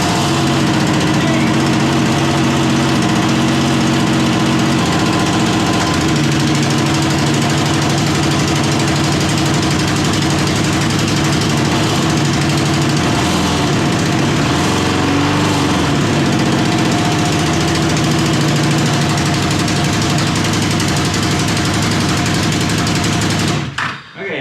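A Can-Am off-road vehicle's engine runs loudly and steadily at close range for the whole stretch, a continuous rough drone that cuts off abruptly at the very end.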